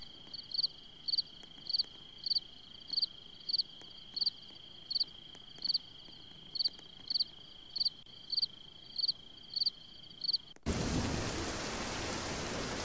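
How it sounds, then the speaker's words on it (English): Crickets chirp in a steady, regular rhythm in a video game night scene, then rain abruptly begins and settles into a loud, constant hiss for the final seconds. "It's the beginning to rain."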